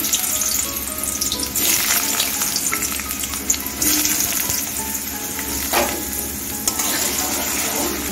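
Potatoes fry in mustard oil in a wok over medium heat, a steady loud sizzle and crackle running throughout with occasional stirring scrapes.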